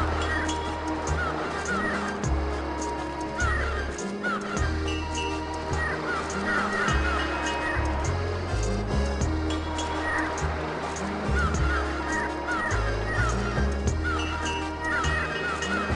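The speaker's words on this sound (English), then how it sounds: "Here are the seagulls." Seagulls call repeatedly in the Grandia HD Remaster video game, short honking cries recurring over looping game music and a soft surf-like wash, heard without speech.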